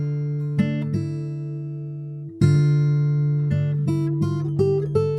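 A plucked guitar riff cut into choppy, stuttering fragments, with abrupt restarts, a pause near the middle and quick repeated note stabs toward the end.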